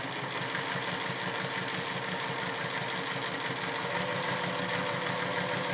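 A quiet Juki sewing machine stitching a half-square-triangle quilt block, running in a fast, even mechanical chatter of repeated needle strokes throughout, close by and alone.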